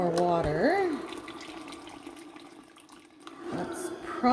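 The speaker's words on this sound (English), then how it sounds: "so I will add some more water" Water poured into a dye pot holding Boreray fleece, a soft continuous splashing trickle that fades in the middle and swells again toward the end, with a voice briefly at the start.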